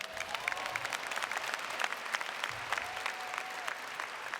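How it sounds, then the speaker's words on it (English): University commencement crowd clapping in a steady, dense wash of applause with sharper individual claps standing out, moderately distant, alongside a faint whistle-like tone in the background. "yes, you can clap"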